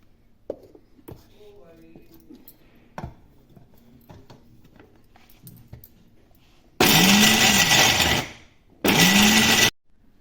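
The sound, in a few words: electric grinder grinding fox nuts (makhana) for laddu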